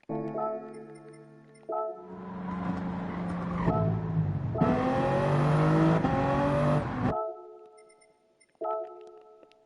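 A race car at a racing academy track, its engine climbing through revs as it accelerates, loud and close, then dropping away, with steady tonal hums before and after.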